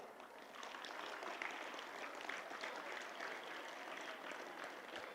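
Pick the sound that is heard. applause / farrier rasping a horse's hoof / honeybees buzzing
applause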